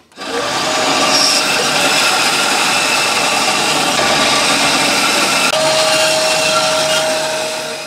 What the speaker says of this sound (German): Wir werden jetzt diese beiden Sachen hier rechts und links jeweils an der Bandsäge raussägen.